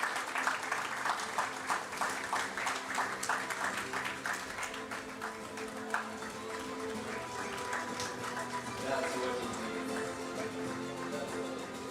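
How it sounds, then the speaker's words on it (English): At the SportPesa League gala awards, the audience applauds an award winner, a long stretch of moderately distant clapping with some individual claps standing out, slowly thinning toward the end. "Round of applause, ladies and gentlemen."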